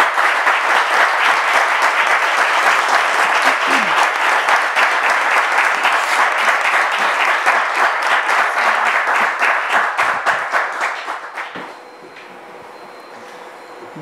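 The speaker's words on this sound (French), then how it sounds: "Avec vos applaudissements" A studio audience at a French talk show applauds a guest's entrance in a loud, sustained wave of clapping that holds for about ten seconds before tapering off quickly.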